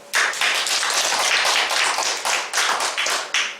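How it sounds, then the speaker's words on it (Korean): An audience in a church service breaks into a short burst of applause, steady clapping for a few seconds with no talk over it. "그렇게 쓰신 분에게 박수 한번"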